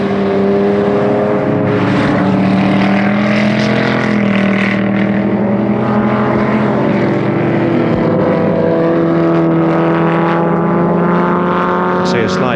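A big touring car races around the Warwick Farm circuit in 1973, its engine a loud, sustained droning roar with shifting harmonic pitch close by, blended with other engine noise and a voice talking underneath.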